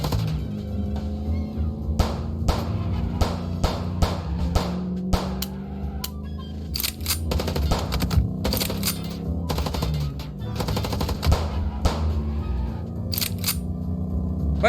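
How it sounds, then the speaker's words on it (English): Gunfire aimed at car tires in the video game Chicken Police, sharp shots cracking in clusters and rapid bursts over a droning engine hum, loud and close. "I'm shooting out their tires"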